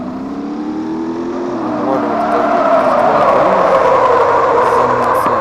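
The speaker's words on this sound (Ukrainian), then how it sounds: "Дрифт." A car drifting in the Car Crash Simulator video game: a loud, close engine whines and revs higher for several seconds, building to a steady, sustained roar with no talk.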